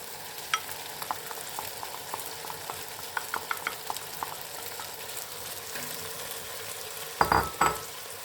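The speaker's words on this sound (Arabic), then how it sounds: "دابا اخواتي غادي نحاولوا نضيفوا العدس ديالنا من بعد ما انكم غسلتوه مزيان" Washed red lentils going into a pot on the stove, with soft scattered ticks and a low sizzle, then a brief louder rattle of a utensil against the pot near the end.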